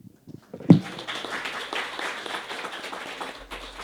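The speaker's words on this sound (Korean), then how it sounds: "잠비아에게 다시 한 번 더 뜨거운 박수 부탁드리겠습니다" Seminar audience applauds Zambia's presentation, a short burst of clapping that starts abruptly and fades out over a few seconds.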